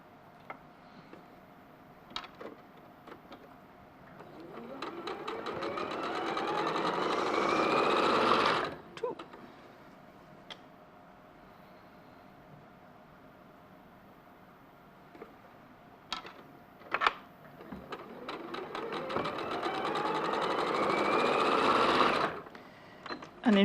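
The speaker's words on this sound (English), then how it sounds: "for chain piecing, we would carry on sewing all of these into pairs" Sewing machine chain piecing fabric squares with a 1/4 inch foot: two long runs of fast, steady mechanical whirring that speeds up and cuts off, separated by a quiet pause with scattered small clicks and fabric handling, heard up close.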